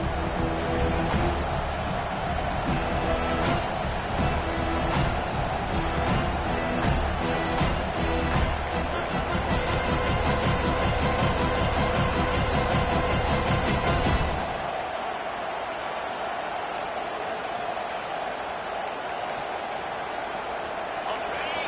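Loud, steady roar of a packed stadium crowd at a Colts football game, sustained for most of the stretch and then dropping to a lower ambient murmur near the end.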